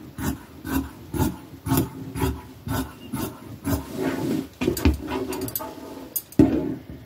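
Rhythmic rasping cuts along fabric of a men's shirt as it is trimmed, about a dozen short close strokes in a steady pattern, then a few quicker irregular snips.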